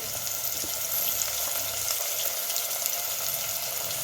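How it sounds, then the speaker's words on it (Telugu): Chopped onions fry in oil with fenugreek seeds in a clay pot for fish curry, giving a steady, close, even sizzle that carries on without pause. "మనం ఉల్లిపాయలు కలిపేసేసానండి. ఇవి బాగా వేగాలి."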